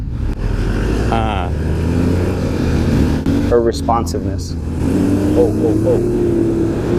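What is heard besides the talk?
CF Moto Ibex 450 motorcycle riding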